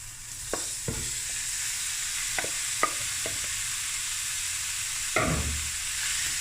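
A kilogram of beef mince with onions browns in a pot, a steady sizzle broken by several sharp spoon scrapes and knocks against the metal, close and clear with no talking.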